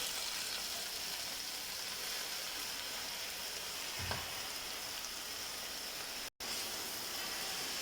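Pumpkin greens cook in a pan with onion, garlic and chillies, giving an even, rain-like sizzle throughout, with a single soft knock midway and a brief dropout near the end.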